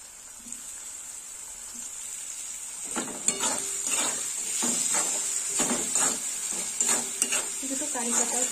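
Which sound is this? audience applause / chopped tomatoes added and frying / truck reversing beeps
chopped tomatoes added and frying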